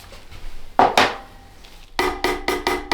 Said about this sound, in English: going to tap the bubbles out of the stick blender